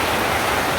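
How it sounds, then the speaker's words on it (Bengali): Heavy, sudden rain pours down in a loud, dense, continuous hiss of drops hitting surfaces, close and unbroken. "হঠাৎ করে যে প্রচন্ড বৃষ্টি নামছে।"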